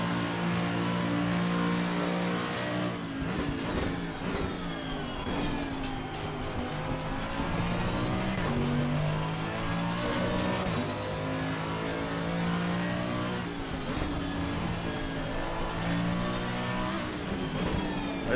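A Mercedes-AMG GT3 Evo race car lapping Zandvoort in Assetto Corsa Competizione, engine roaring steadily for the whole stretch, pitch sweeping up through the gears and dropping on downshifts, with no talk.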